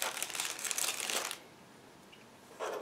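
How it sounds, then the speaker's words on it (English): Plastic bag holding a 1/700 scale model kit frame crinkles steadily for over a second, falls quiet, then crinkles again briefly at the end; no voices. "Next plastic frame in the separate plastic bag"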